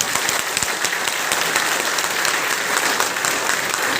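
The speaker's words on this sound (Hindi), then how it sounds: "एक बार बढ़िया से ताली बजाइए कड़कड़ा के।" Loud, dense applause from a large audience at a motivational business seminar, steady clapping filling the room for the full four seconds with no speech over it.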